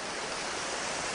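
Continuous rushing water, a steady broadband splash like a small waterfall, heard alone without talk.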